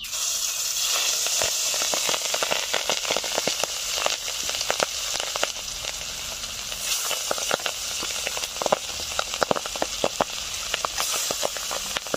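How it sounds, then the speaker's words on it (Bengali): Pabda fish fry in mustard oil in a covered pan, a dense continuous hiss peppered with many sharp spattering pops and crackles throughout, loud and close with no voices. "মাছগুলো একটু ফাটে তো আমি ঢাকা দিয়ে ভেজে নিচ্ছি"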